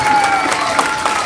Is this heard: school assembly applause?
yes